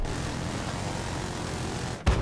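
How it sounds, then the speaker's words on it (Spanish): Helicopter in the Battlefield 4 video game: a dense, continuous rotor and engine roar that stays loud and steady, then cuts out sharply near the end with a brief thump. "encima hay un helicóptero ahí"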